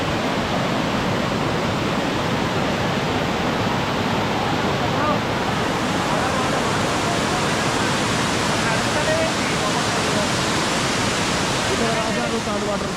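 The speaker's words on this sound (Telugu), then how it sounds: "అదొకటి చూడండి, సెకండ్ వాటర్ ఫాల్." Elephant Falls in Shillong, Meghalaya, its second cascade pouring down, makes a loud, unbroken broadband roar of rushing water that stays constant throughout, filling the whole scene.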